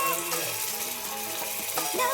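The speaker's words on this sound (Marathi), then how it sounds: "बोंबील टाकतोय, सगळे आपण असे फ्राय करायला टाकून घेऊया" Bombay duck fish frying in hot oil gives a steady, close sizzle that runs continuously beneath faint stirring sounds.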